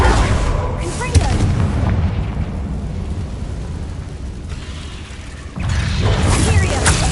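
Confringo fire blast spell from the Hogwarts Legacy video game, with heavy booming impacts opening and closing the stretch and a lower rumble of effects in between.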